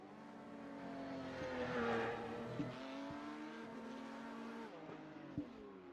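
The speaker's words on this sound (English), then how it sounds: "Burnouts are always fun to do anyway." A race car doing a burnout in the iRacing sim at Sandown: a steady, fairly faint engine drone with layered tones and a hint of tyre squeal, holding and shifting slightly over several seconds, with no talking.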